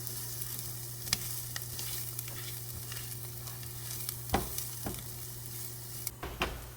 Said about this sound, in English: Saute them until they get nice and brown.